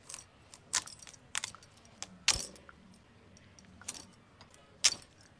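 Unpeeled sweet potato is cut straight into large chunks with a kitchen knife for a fish, cauliflower and bori curry, giving about half a dozen sharp, close cuts at irregular intervals over a quiet background.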